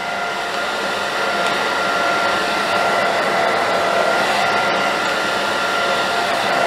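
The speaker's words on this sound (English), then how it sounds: "you notice I'm using my blow dryer to also help my shear" A handheld blow dryer runs steadily and loudly throughout, a continuous airy whir with no pauses, used during a crown layer haircut on a live model in a cosmetology setting.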